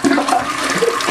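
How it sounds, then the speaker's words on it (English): A toilet flushes loudly and close up, giving a brief, full rush of water. "Oh no, a flush!"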